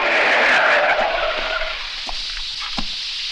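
A car brakes hard to a stop, its tires skidding with a loud, sustained squeal that fades over a couple of seconds, followed by a few faint knocks.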